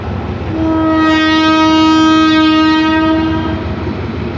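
A long, loud locomotive horn from train 4505 blares steadily for about three seconds at a level crossing in Thailand, a single sustained harmonic blast over rumbling background noise, then cuts off.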